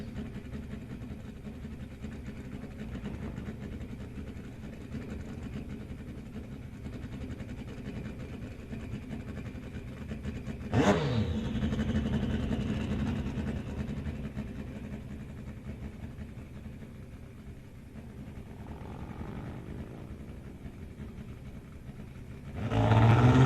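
A Pro Mod drag racing motorcycle at a drag strip roars past on the racetrack, a steady engine rumble that surges loudly near the middle, fades back down, and rises again at the very end.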